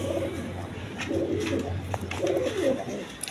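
Pigeons coo in soft, throaty bursts nearby, repeating a few times over a low background hum.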